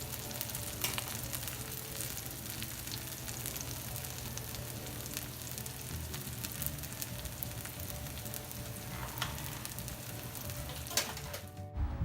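Onions and garlic sizzling in warm olive oil with pepper flakes, a dense, even crackle that runs steadily throughout at close range, fading away right at the end, with no voices.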